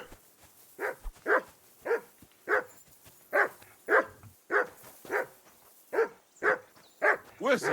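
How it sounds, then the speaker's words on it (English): A dog in the video game Kingdom Come: Deliverance II barks repeatedly at a steady pace, about a dozen sharp, moderately close barks spaced evenly apart with quiet gaps between them. "That barking was a pain in the ass."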